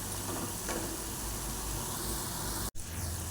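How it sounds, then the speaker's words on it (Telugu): Cauliflower pakodi deep-frying in hot oil, giving a steady, dense sizzle that holds alone throughout, broken by one sharp click near the end. "మంచి బ్రౌన్ కలర్ వచ్చేంత వరకు వేయించుకోవాలి"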